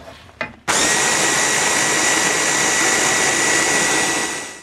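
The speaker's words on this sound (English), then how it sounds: "I'm going to pop it through the blender to blitz it down" After a brief click, a kitchen blender roars at full speed, blitzing thick katsu curry into a smooth sauce; the whir is loud, steady and close, then tails off at the end.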